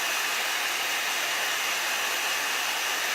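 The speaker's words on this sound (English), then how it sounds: "Dry it up, and if you don't have a heat gun, just use a blow dryer." A heat gun or blow dryer blows steadily and alone, a constant loud hiss used to dry a chalk transfer during a craft project.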